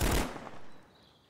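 A short, loud burst of gunfire in the video game Karma, cutting off abruptly and trailing into a dim, rumbling tail.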